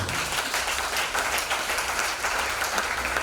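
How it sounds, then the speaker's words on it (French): A church congregation applauds during a French-language worship service, a steady wash of clapping from many hands that holds loud and even throughout. "Acclame cette parole."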